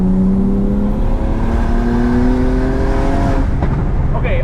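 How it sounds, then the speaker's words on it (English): Single-turbo BMW 135 with a Flowmaster muffler revving hard, a loud rising engine tone with turbo whine, then easing off near the end; a voice talks briefly. "There's a lot of turbo noise."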